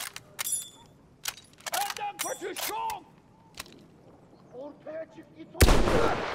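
Shotgun blasts in the World War I shooter Battlefield 1, several sharp separate shots with gaps of quieter battlefield noise, ending in one loud close-range boom.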